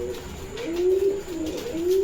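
Large Shirazi-type pigeons coo at a pigeon farm, a few rising, drawn-out throaty calls heard close over a soft steady background, with no talking.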